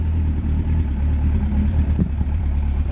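A high-mileage Yamaha Fazer 1000 first-generation motorcycle idles cold with a steady low engine rumble, close and continuous, with a faint clack near the end.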